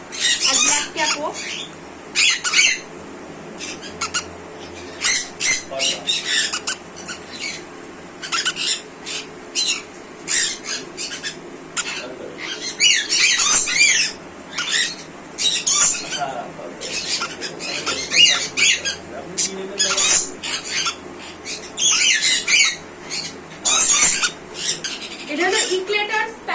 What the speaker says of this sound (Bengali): এটা হলো ইক্লেটার প্যারট, অ্যাডাল্ট পেয়ার, এটা ফিমেল আর এটা ছিল মেল।